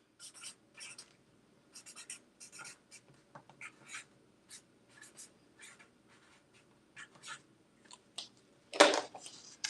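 Pen writing by hand on a small customer card, a close dry scratching in short strokes with brief pauses between them and a louder scrape near the end.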